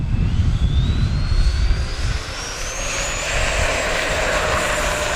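An E-flite F-16 70mm electric ducted-fan RC jet on a 3200 pack takes off in a right crosswind, its loud whining fan rising steadily in pitch over a rumbling roll, close and continuous with no talk.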